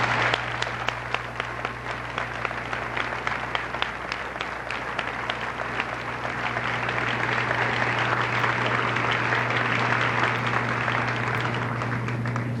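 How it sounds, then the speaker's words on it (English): Sustained applause from a large audience honoring eighth-grade students at a junior high graduation ceremony, a dense, steady patter of many hands clapping for about twelve seconds with no voices over it. "these students deserve a big round of applause"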